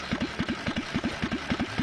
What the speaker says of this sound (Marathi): मुलांनो, इंजिन आपली चालू झाली.